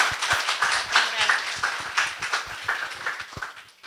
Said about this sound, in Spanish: Así que recibámoslos con fuertes aplausos.